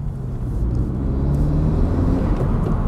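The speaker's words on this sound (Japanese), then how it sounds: "シューっていう吸い込んでる音がめちゃめちゃ聞こえてきますね" A Honda Civic FK7 with an aftermarket air cleaner accelerates with a steady rumbling engine and a breathy whoosh of air being drawn in, heard from inside the vehicle.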